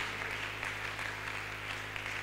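A church congregation applauds during a prayer marathon, a steady wash of many hands clapping at moderate volume over a low hum.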